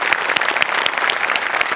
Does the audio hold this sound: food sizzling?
no